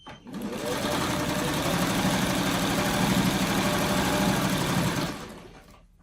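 A sewing machine stitching quilt pieces for freeform blocks runs in one continuous burst of rapid mechanical whirring and needle clatter, starting and stopping cleanly, loud and close.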